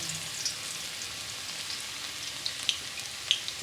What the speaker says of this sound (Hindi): ये लहसुन का मैंने पेस्ट बनाया है और इस ऑयल में मैं डाल के बिस्मिल्लाह ऑयल में मैं डालने लगी।